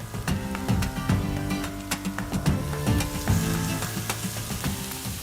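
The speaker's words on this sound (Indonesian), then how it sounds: "Setelah bumbunya halus, kita tumis bumbunya dulu ya Momis." Ground spice paste for Betawi nasi ulam sizzles and fries steadily in a hot pan, a continuous close crackle with occasional stirring clinks and no talking.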